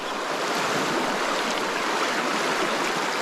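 The River Tweed near Kelso in June, slightly raised and tinged grey after nearby thunderstorms, flows with a steady, dense broadband rush, close and continuous with no voices.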